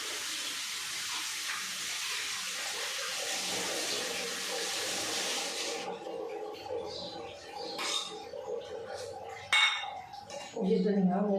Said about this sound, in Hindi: ये धनिया हमने धो के रख लिया